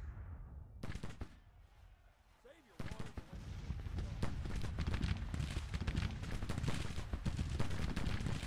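Musket volleys and artillery fire in the Civil War strategy game Grand Tactician, a sharp crack or two, then a quieter lull before a sustained roll of massed gunfire and booms builds and continues to the end.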